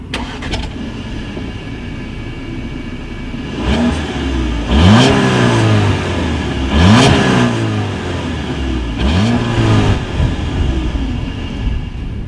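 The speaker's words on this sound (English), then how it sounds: "As always, here is that exhaust clip." A 2019 Audi A4 with dual exhaust and chrome tips revs up three times in sharp climbing bursts, each rising and falling back to a steady close idle rumble, with no talking.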